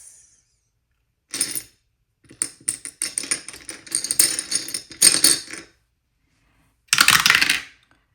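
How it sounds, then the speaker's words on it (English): Several eight-sided dice rattle and clatter across a table during a savings challenge game, with bursts of clicking tumbles, a few separate rolls and short gaps between them, close and fairly loud. "I'm rolling 8-sided dice"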